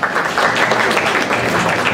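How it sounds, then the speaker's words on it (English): Audience applause at an advertising masterclass session, a steady dense wash of clapping filling the whole short stretch at an even, fairly loud level with no gaps. "Let's give them a round of applause."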